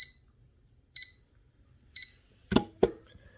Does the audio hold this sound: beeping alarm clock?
yes